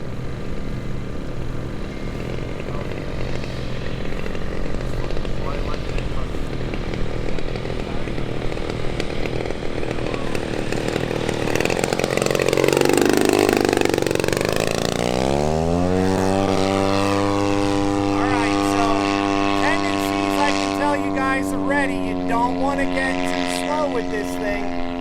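A 50cc gas-powered Maxford Antonov An-2 RC biplane flies past on low rates with flaps set for takeoff, its engine droning steadily, then swelling loud overhead and dropping sharply in pitch as it passes and recedes.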